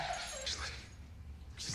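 A dog whimpers and yips softly in a tense scene from a crime drama series, with brief, faint high cries spaced over a low, murky background.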